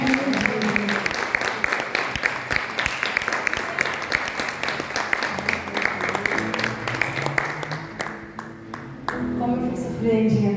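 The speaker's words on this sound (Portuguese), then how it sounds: "bota a tua mão pro alto e aplaude a Ele." A church congregation bursts into sustained, dense applause that fills the room, thinning near the end as a voice speaks over it.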